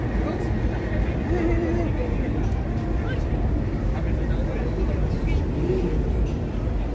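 Busy night street traffic on the Las Vegas Strip during F1 race week, a steady low rumble of engines and passing vehicles with crowd babble mixed in, continuous and fairly loud throughout.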